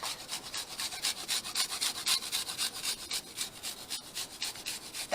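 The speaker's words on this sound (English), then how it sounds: "I'm just going to grate this with my microplane right into our mixture." A microplane grates something into Italian salsa verde with quick, rhythmic rasping strokes, about two per second, close and fairly quiet with no talking.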